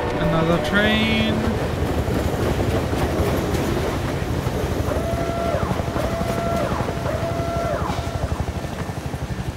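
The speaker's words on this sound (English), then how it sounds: "another train." A train rumbles past in the Half-Life 2: Episode 2 mod Forest Train, a loud, continuous rhythmic clatter of wheels with tonal horn-like notes sounding over it.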